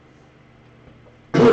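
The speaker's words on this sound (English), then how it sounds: "Had to clear my throat there." A single short throat clearing right at the end, loud and close, after a quiet stretch of faint room noise.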